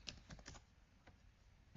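Quick clicks of typing on a computer keyboard at a PC, a few scattered key presses with short pauses, close and fairly quiet, no voices.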